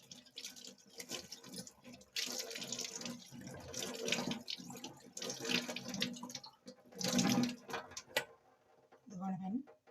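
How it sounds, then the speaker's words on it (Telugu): Something is rinsed under a running tap, with water splashing and gurgling in uneven bursts close by while a voice talks over it. "ఇదిగో కడిగి చూపిస్తున్నాను ఫ్రెండ్స్."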